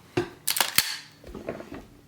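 Atlas Artemis pistol being dry-fired, with a sharp trigger-break click followed by smaller mechanical clicks as the trigger resets, close and distinct with no talk.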